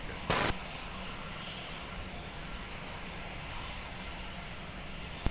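An airliner at Lisbon Airport taking off from runway 20 gives a steady, distant engine roar, with a brief burst of radio static at the start.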